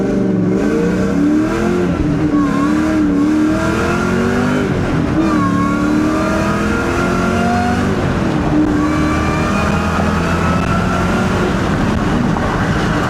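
A tuned Ford Mach 1 engine revs and pulls hard through the gears, its loud, steady exhaust note rising and falling in pitch for the whole stretch, close and continuous with no talking.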